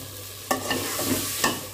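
Tomatoes frying in a pan for chicken khichdi, a steady close sizzle with a few spoon scrapes and clanks as the pieces are turned, no voices.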